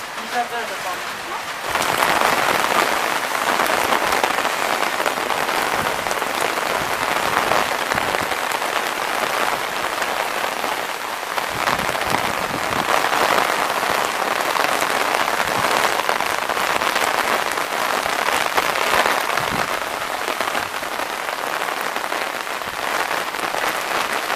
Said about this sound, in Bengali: এর কিছুক্ষণ পরেই শুরু হলো তুমুল বৃষ্টি।